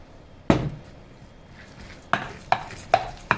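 Cooked dal for bobbatlu being mashed soft with a wooden masher: one dull knock, a pause, then a steady run of four or five close, fairly loud thuds against the pot, with no talking.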